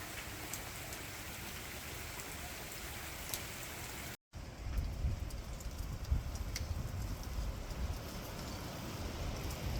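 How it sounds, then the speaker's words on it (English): Steady rain falls outdoors on a cold day, a dense, even hiss of drops on surfaces that holds for about ten seconds apart from a brief dropout, with no voices. "It's been raining all day."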